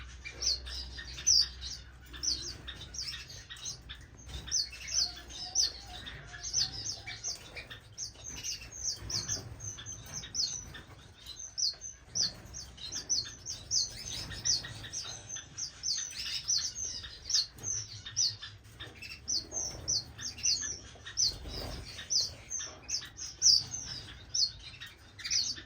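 Waxbills and a strawberry finch in an indoor bird room give a continuous chatter of high, thin chirps and tweets, many small calls overlapping at moderate distance, with occasional soft wing flutters and no talking.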